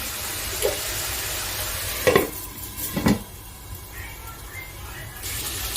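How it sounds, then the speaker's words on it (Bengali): Spice paste for a light Bengali bata fish curry sizzles in a pan, with a steady soft fry broken by a few clinks and scrapes of a spoon stirring against the metal. "এবার এই মশলাটাকে আমি ভালো করে ভাজা করে নিচ্ছি"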